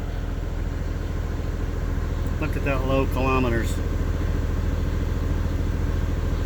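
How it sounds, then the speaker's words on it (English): A 1991 Toyota HDJ80 Land Cruiser turbo diesel idles with a steady, even low rumble and rhythmic thrum throughout, close and constant, while someone speaks briefly over it. "I want you to hear this engine."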